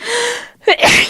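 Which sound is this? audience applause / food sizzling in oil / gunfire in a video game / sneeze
sneeze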